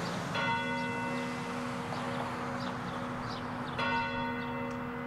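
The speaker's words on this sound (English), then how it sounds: "Did you hear those bells ringing at a rather unusual time this morning at 7:22?" Church bells ring out across South Bend in honor of Abraham Lincoln, a steady resonant peal with sustained overlapping tones, moderately distant and carrying over outdoor ambience, with a fresh strike near the end.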